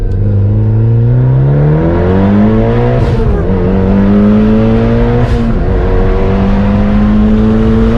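Car running E85 with an upgraded fuel pump pulls hard through first gear, engine note climbing steadily and loud and close, with a brief shift or lift around the middle before pitch rises again.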